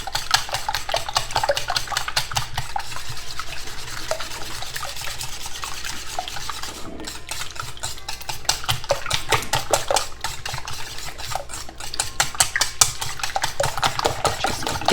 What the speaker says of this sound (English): let's beat these eggs up